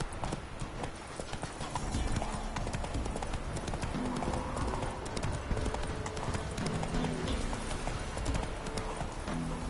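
A horse gallops in a PS4 video game, its hooves clip-clopping in a rapid, continuous rhythm, close and clear, with a faint voice now and then.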